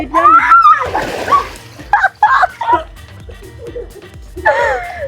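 A person steps into a swimming pool and sinks during a game of trying to walk on water while wearing slide sandals, making a sloshing splash among excited voices, gasps and laughter.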